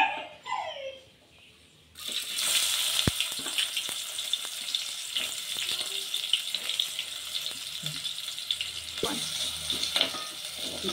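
Sliced onion hits hot oil in a pan and sets off a sudden, steady sizzle that lasts to the end, with a few faint clinks along the way. A short, quieter stretch comes before it.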